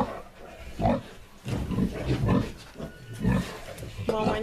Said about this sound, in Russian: Через забор покажи, как она носится.